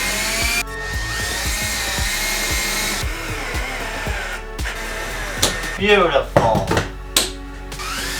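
A power drill whines steadily as it bores into wood inside a converted school bus kitchen, then cuts off, followed by clattering handling noises and a brief spoken remark.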